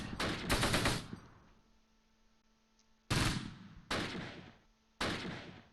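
Machine gun fire in the World War II strategy game Close Combat arrives as four loud, close bursts of rapid shots, each ending in a decaying echo, with a longer quiet gap after the first.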